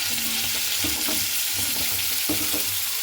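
Papaya pieces dropped into hot mustard oil with cumin set off a loud, dense, unbroken sizzle, with a few stirring knocks underneath.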